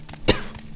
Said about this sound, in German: jetzt muss ich schon husten